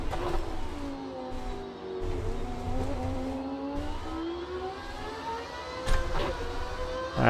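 Race car engines in the video game Automobilista 2 whine and rev, their pitch rising and falling as they scream past, loud and steady throughout.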